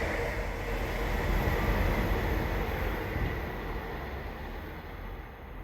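A Northern Class 158 diesel multiple unit, number 158759, pulls away from the platform at Crossgates under hard power, giving a steady, loud, broadband engine and wheel roar that holds throughout.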